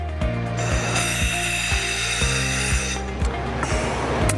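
An AIM6425 lift raising a transmission casting out of a machining center gives off a loud, steady mechanical hum with a regular ratcheting click roughly every half second, close and continuous.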